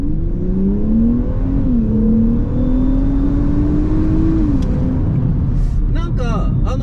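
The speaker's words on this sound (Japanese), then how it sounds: "排気音確認" A Nissan Fairlady Z with NISMO parts revs steadily upward through the gears, exhaust droning loud and close, with a brief shift before climbing again.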